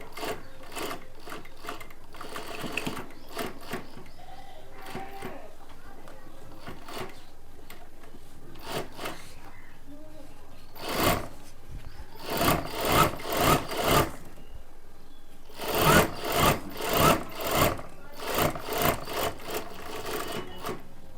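A sewing machine stitching a kurta placket runs in short rhythmic bursts of rapid stitching, separated by quieter pauses with fabric handling, close and fairly loud.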